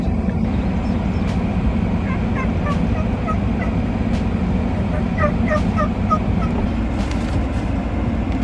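Distant birds call in short clustered bursts over a steady low rumble of wind or engine noise, faint but repeated throughout.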